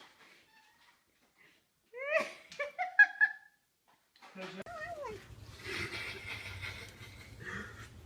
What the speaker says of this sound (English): good cat fight